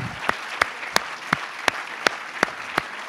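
Audience applause at the closing night of the FFFH 2022 festival, a steady wash of clapping with sharp louder claps punctuating it roughly every third of a second, no voices over it.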